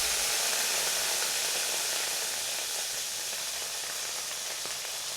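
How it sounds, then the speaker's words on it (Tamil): A steady, dense hiss and bubbling of water boiling in a pan for butter chicken, continuous and fairly loud throughout. "தண்ணி நல்லா கொதிச்சிருச்சுங்க."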